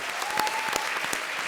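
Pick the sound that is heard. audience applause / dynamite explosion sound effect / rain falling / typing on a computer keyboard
audience applause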